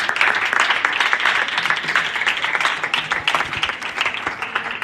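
A church congregation claps steadily for several seconds in dense, sustained applause.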